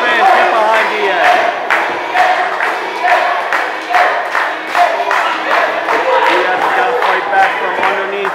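A wrestling crowd at a live show roars behind a wrestler named Diaz, with loud rhythmic chanting, shouts and clapping in pulsing waves. The noise fills the arena steadily and loudly.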